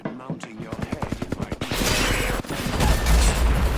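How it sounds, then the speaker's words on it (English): Rapid automatic gunfire from Apex Legends, a quick string of about a dozen sharp shots followed by a denser, louder burst of overlapping fire and explosions, with players talking over it. "He just went from shooting you to shooting me."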